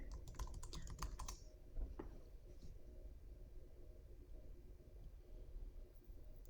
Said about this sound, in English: let's type that in here